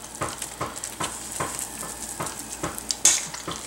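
A spoon scoops soft French toast casserole mixture into a baking dish with a steady series of wet, soft scraping strokes, ending in a brighter clink against the dish.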